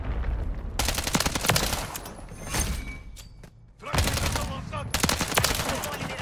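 Continuous automatic gunfire in Call of Duty Modern Warfare 3 multiplayer: long sustained bursts with a brief lull in the middle, mixed with thuds and impacts, close and steady.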